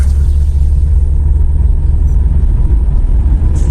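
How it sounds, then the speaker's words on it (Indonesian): A car driving at a steady pace after dusk, heard as a constant low engine rumble and road drone from inside the cabin, close and loud with no talk. "aku coba nyalakan lagi mobil dan dengan mudahnya mobil menyala"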